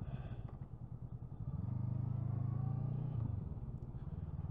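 Steady rumble and putter of a 2022 Honda CMX 500 Rebel motorcycle engine during a ride, swelling to a louder, steadier drone midway before easing back, close and continuous.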